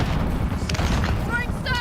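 In a video game, a grenade goes off as a deep, loud boom amid rumbling battle noise, with voices talking over it.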